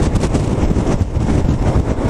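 Steady wind roar buffeting a scooter rider travelling at highway speed with a tailwind, a dense continuous rush that stays loud and close without a break and with no voices heard.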